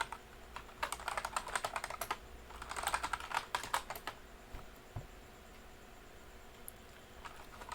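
Computer keyboard keys clatter in quick bursts of close typing, pausing between short runs, then a few scattered taps.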